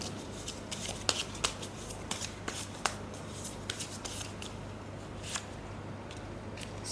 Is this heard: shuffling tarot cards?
yes